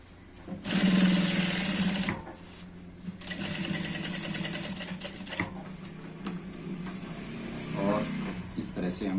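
Sewing machine stitching a pant waistband, a fast mechanical whir in bursts that start and stop, with pauses and handling noises between runs of stitching.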